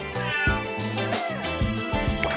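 A cat meows several times in a row, close and clear, with short drawn-out calls and no talking.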